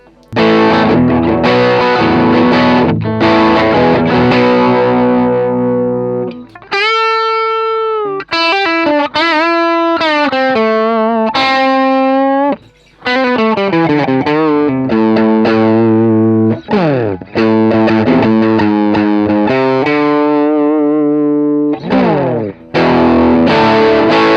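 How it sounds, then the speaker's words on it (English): Crunchy overdriven electric guitar through a Peavey Bandit 65 solid state amp on the neck pickup, loud and continuous with chords and single-note phrases, a few brief gaps between passages, no talking. "we're certainly into more crunchy territory now"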